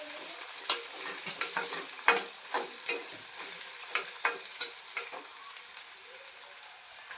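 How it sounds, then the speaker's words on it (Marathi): Onion, garlic and green chilli sautéing in hot oil, a steady bright sizzle punctuated by a series of close spatula scrapes and knocks against the pan. "आता कांदा आणि मिरची टाकून घेऊया। कांदा आणि लसूण ते छान परतून घेऊयात।"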